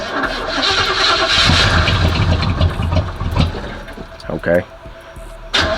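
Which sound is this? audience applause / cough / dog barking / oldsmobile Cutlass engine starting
oldsmobile Cutlass engine starting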